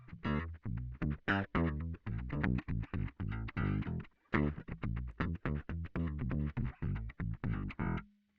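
Electric guitar run through a Line 6 Helix pitch effect set an octave down, playing a steady stream of plucked notes with a deep, slightly distorted, bass-like tone, loud and alone with a brief pause midway.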